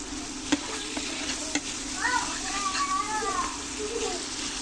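Ghaghra leaves and green chillies sizzle steadily in a pan while a spoon stirs and scrapes through them, with a voice talking over the cooking.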